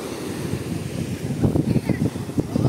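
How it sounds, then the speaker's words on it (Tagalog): Gusty wind roaring over open sea, Pacific waves washing and surging, blustery and loud throughout. "Mahangin na pala yun."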